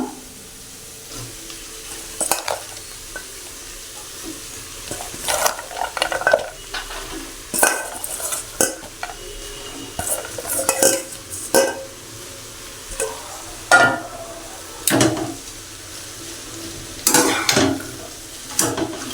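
Okra and potatoes stirred in a hot pan with spices: a soft sizzle runs underneath while a spatula scrapes and clatters against the pan again and again, close and fairly loud, with no talking.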